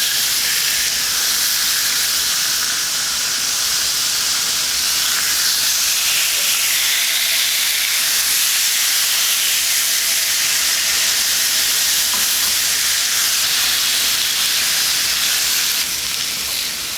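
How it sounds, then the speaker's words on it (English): A marinated carne asada steak sears in an oily marinade on a hot cast iron pan, giving a loud, steady, close sizzling hiss that runs unbroken throughout with no talking. "We're gonna get our steak on and get it cooking."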